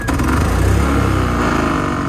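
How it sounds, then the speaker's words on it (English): A portable generator engine runs steadily with the choke on during first start-up, a loud continuous rough drone with a slightly uneven mid-range throb. "So I'm gonna let it run with the choke on for a little bit, and then put that off."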